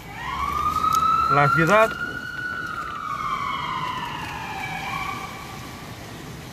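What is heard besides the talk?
ambulance siren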